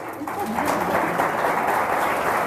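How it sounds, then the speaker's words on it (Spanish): An audience at a book fair debate applauds in a steady, dense wash of clapping that fills the room, with voices faintly underneath. "muchas gracias al público, pueden aplaudir"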